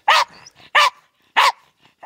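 Hunting dog barking at a fox in its den, three sharp, loud barks spaced about half a second apart, close by and with no talking.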